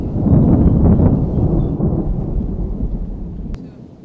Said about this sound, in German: kaum sind wir wieder auf diesem Hügel oben, fängt es wieder an zu stürmen